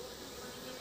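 Honeybees at a hive buzz in a brief, faint, continuous drone, a soft steady hum with no voices over it.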